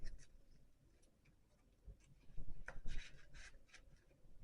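Paper cards tucked back into a cash-stuffing envelope and slid around inside it, giving soft rubbing, shuffling rasps and light ticks, quiet at first and then louder and busier toward the end.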